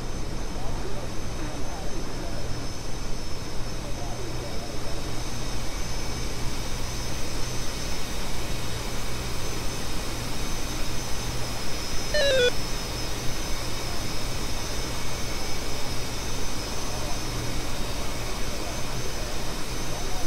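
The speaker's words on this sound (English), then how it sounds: "Two F-18s come in." Two F-18 jets landing on an aircraft carrier in the DCS Super Carrier simulator, a loud steady jet engine roar that fills the whole stretch, with a brief rising tone partway through.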